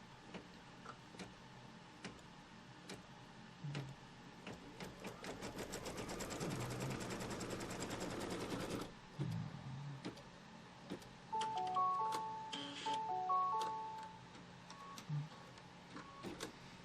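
Close by, a quilting embroidery machine sews fabric held in its hoop, a rapid, even needle chatter building to a steady whir, then halting, followed by soft handling clicks and a short series of beeps.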